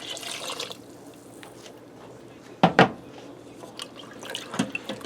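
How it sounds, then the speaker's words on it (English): Water is poured into a pressure cooker for beef orzo soup: a brief splashing pour at the start, then quieter handling with a couple of sharp knocks near the pot. "And I'm going to add some water in here."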